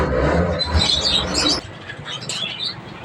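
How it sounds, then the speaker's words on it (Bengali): Budgerigars and other caged birds chirp inside the Nimtala bird house aviary, a busy mix of thin high tweets and squawks over a low rustling background, with no voices over them. "পাখির কিচিরমিচির"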